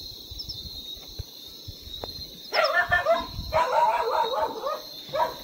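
A dog barks and yips outdoors in a hilly village, a quiet stretch at first, then a burst of close, excited yelps and whimpering barks filling the second half over a steady high insect-like hum.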